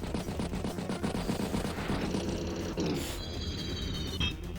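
A rocket unit attacking a recon unit in the strategy game Advance Wars, a run of rapid rattling shots and mechanical clatter over game music, ending in a burst and a ringing tone.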